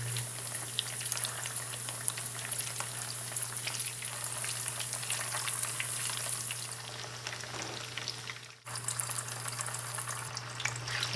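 Potatoes sizzle and crackle steadily in hot oil in a pan, a dense close spatter that continues throughout, with a brief dip near the end.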